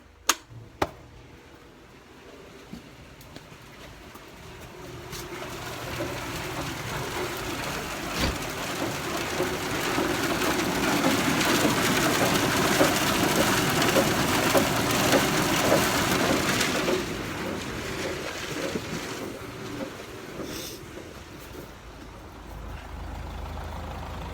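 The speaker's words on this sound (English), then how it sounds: "Once this gets going, I'm going to turn on the outside elevator" A farm silage elevator runs with corn silage pouring down, a broad rumbling, rain-like rush that swells over several seconds, holds steady, then eases slightly, after a couple of sharp clanks at the start.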